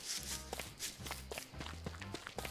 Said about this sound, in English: change the footstep sounds depending on the texture the player is walking on